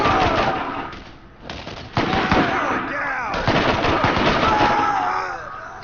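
Rifles fire in the video game Borderlands in rapid bursts and volleys with some ringing tails, loud and busy across the whole stretch, with faint voice-like tones mixed in.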